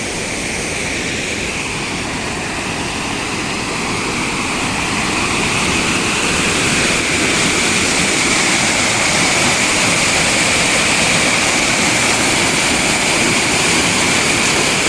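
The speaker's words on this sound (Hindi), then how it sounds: "पानी पहाड़ों से बहता हुआ नीचे की जानिब बहता है दरियाओं की तरफ" Mountain water rushing down toward the rivers in Neelam Valley, a steady, loud broadband roar of flowing water that holds evenly throughout with no voices.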